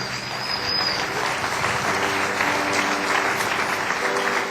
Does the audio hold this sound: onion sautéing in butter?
no